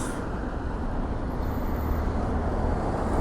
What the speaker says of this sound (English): Lots of cars.